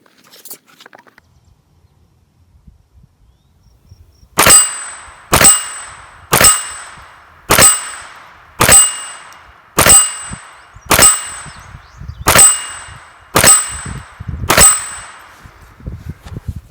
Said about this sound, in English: we're just gonna run a couple magazines and make sure we're on our zero with this new Nikon Tactical Spur red dot